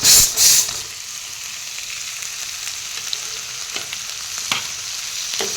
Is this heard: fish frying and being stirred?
yes